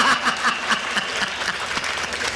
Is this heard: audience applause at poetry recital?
yes